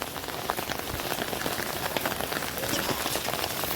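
Heavy monsoon rain pours down onto surfaces, a dense, loud, continuous patter of many drops hitting close by, with no talk.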